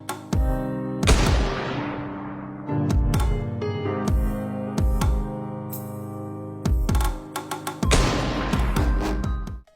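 Sharp sniper gunshots near Bakhmut ring out one after another at irregular intervals, each followed by a long rolling echo that fades slowly.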